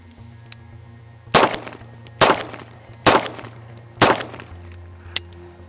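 Four sharp handgun shots from a Beretta PX4 pistol, spaced roughly a second apart, loud and close, each with a short ringing tail outdoors.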